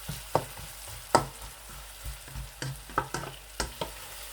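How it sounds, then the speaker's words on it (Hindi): Onions fry over a low flame for maash ki daal, heard as a quiet sizzle punctuated by about eight sharp scrapes and taps of a spoon against the pan at irregular intervals. "फ्लेम मैंने हल्का कर दिया ताकि प्याज जो है हल्की सी आंच पर अच्छी तरह से पक जाए"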